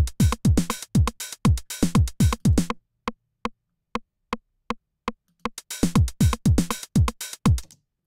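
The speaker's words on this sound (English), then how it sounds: "The next element to add to the pattern is called the rim shot" A drum machine loop plays a slightly polyrhythmic rim shot pattern, crisp clicks cutting across the beat; for a short stretch the rim shots sound alone as sharp, evenly spaced ticks before the full pattern returns.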